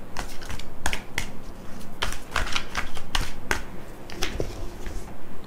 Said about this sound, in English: we are picking more tarot cards from this deck